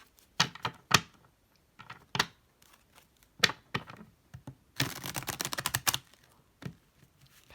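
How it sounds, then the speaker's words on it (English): Tarot cards being shuffled by hand: a string of crisp papery clicks and snaps, then a longer rapid riffling burst, close and fairly quiet, with no talking. "I'm just going to go ahead and shuffle the cards"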